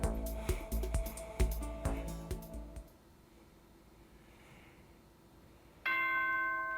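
In Danganronpa: Trigger Happy Havoc, a bright electronic school announcement chime rings out clearly near the end, after a stretch of clicking and quiet background.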